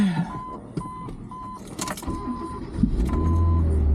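Car engine cranking and catching after new battery terminals are fitted, a brief starter whir followed by a steady low idle building toward the end, with a chime tone repeating intermittently over it.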